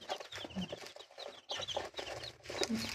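Hybrid chicks at feeding time, given ground rice sprinkled over their feed, cluck and peep in a steady, overlapping chatter, fairly close and moderately quiet, with no talking.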